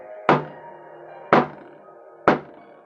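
A walking stick taps the ground three times, sharp wooden taps about a second apart, each a hollow knock that quickly decays, close by and evenly spaced.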